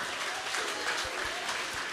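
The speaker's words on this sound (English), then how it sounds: "Can you clap your hands if you meant it?" A church congregation claps along during a sermon, with steady, fairly soft applause filling the space throughout the short stretch.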